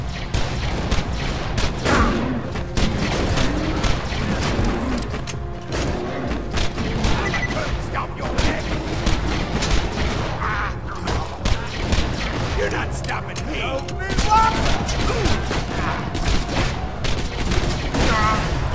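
Rapid bursts of gunfire from a laser-sight gun in the Borderlands 2 video game, crackling steadily over dense game noise and music, with a voice talking over it at times.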